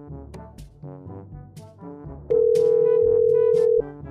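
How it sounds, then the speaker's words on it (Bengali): A steady, continuous telephone ringback tone sounds loudly for about one and a half seconds as a call is placed, following a stretch of background music. "আব্বুর একটা ফোন দেই।"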